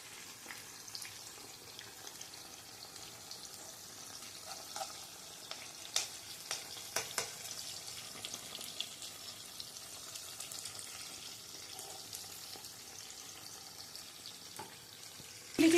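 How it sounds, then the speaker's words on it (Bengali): Chilli chicken pieces frying gently in oil over a low gas flame, a quiet steady sizzle with soft scattered pops and crackles running throughout, fairly faint and with no talking. "গ্যাসের আঁচটা স্লো করে ভেজে নিচ্ছি।"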